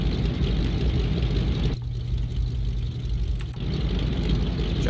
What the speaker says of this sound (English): A little listen to that engine.